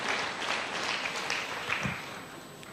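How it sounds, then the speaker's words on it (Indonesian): A church congregation applauds during a sermon, a dense, even patter of many hands clapping steadily for a few seconds before easing slightly at the end. "Berikan tepuk tangan yang meriah buat Tuhan."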